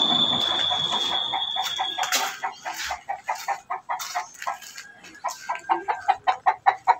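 Brooding hen sitting on heritage-breed eggs, clucking in a steady series of short, close clucks that quicken into a rhythmic run toward the end, with a brief squawk early on.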